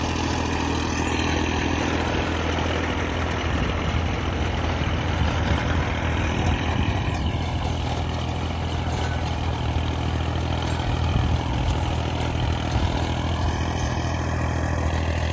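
A Massey Ferguson 1035 tractor idles with a Sonalika 6-foot rotavator attached, giving a steady, loud, continuous diesel engine rumble that holds throughout with no talk.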